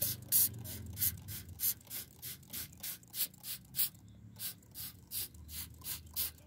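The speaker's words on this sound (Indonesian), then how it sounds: "Setelah itu kita semprot lagi." Water sprayed onto freshly sown chili seeds in a seedling tray comes as a quick series of short hissing bursts from a hand sprayer, regular and close, with no voices.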